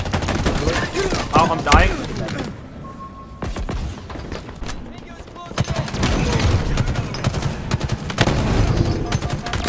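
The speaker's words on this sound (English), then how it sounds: "Oh, this bot's shooting at me." Gunfire from an enemy bot in a Call of Duty-style shooter on the Fracture map, rapid sharp shots in bursts close by, pausing briefly midway, while a player talks over it.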